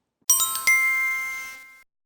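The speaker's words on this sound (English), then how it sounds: "don't forget to hit the notification bell" A bright notification bell chimes twice in quick succession, clear and close, its ringing tone hanging and fading out over about a second with no voices.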